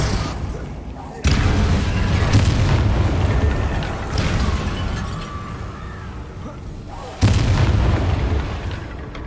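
Confringo and Bombarda spell explosions in the video game Hogwarts Legacy, heavy booming blasts with a sharp impact near the start and another later, each decaying into rumbling debris, while a voice speaks over the action.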